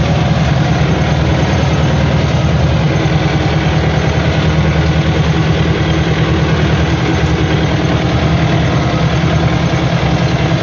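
An MTZ 82.1 tractor engine drones loud and steady while driving between planted fields after sowing gardens, a continuous low rumbling throb with constant vibration throughout.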